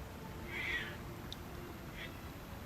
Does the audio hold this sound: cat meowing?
yes